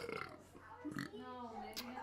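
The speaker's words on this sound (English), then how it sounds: "Big old burp right there." A long, loud burp rumbles near the microphone for about two seconds during a live reaction to an AFC Championship football game, with faint broadcast sound beneath it.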